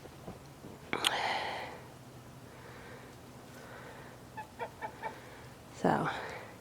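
Chickens on a farm where the hens are over two years old, with a few short clucks and squawks in the middle and a louder bird call near the end, heard fairly close against quiet outdoor background.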